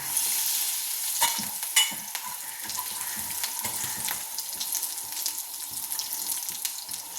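Bitter gourd slices fry in sunflower oil, giving a steady close sizzle broken by scraping stirs from a spoon or spatula, with no voices present.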